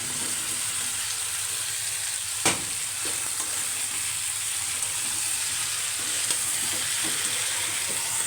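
Flat beans and new potatoes fry with spices in a pan, giving a steady, close hiss of sizzling oil with one sharp clatter of a stirring utensil partway through and faint scrapes afterward.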